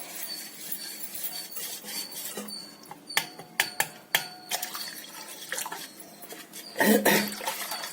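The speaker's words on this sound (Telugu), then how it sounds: "ఈ గిన్నెతో ఉన్న కార్న్ఫ్లవర్ వన్ ఒక గిన్నెని ఈ వాటర్తో మిక్స్ చేస్తున్నాను" Cornflour is mixed into water in a bowl for Bombay halwa, soft liquid swishing and sloshing with scattered sharp clicks and taps from the stirring, close and fairly quiet, no voices.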